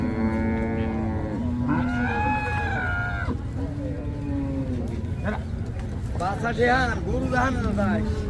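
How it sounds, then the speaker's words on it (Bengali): Cattle low loudly and repeatedly at a busy village cattle market where cows with calves are sold, long drawn-out moos overlapping over constant crowd chatter and talk. "এখানে অনেক সুন্দর একটা গরু আছে"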